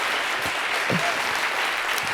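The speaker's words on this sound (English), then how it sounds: "a big round of applause for these 3 crazy jazz musicians" An audience gives a round of applause for three jazz musicians at a talk on leadership, a full, close wash of clapping that stays level throughout, with a faint voice briefly underneath.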